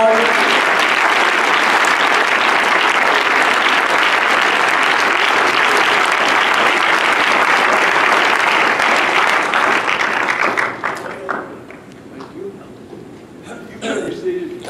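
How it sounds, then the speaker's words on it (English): A church congregation claps and cheers in dense, loud applause for about ten seconds, then it breaks off into scattered claps and quiet voices. "Come on, clap your hands unto the Lord."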